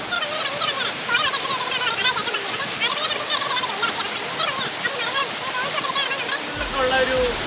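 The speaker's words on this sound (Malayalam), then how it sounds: "വെള്ളം ചാടുന്നുണ്ടല്ലോ, വെള്ളം ചാടിക്കോട്ടെ" Punnayar Waterfalls in Idukki roars in a constant, loud, broad rush, with voices talking over it.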